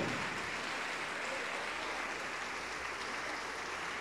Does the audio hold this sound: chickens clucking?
no